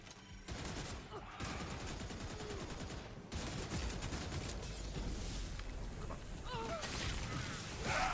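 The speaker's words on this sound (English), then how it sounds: "That was a shotgun blast to the head" A shotgun blast in the Redfall shooter game, set among busy in-game gunfire: repeated sharp reports and clattering mechanical effects fill the scene at low overall volume, with a few abrupt gaps, and no one talks.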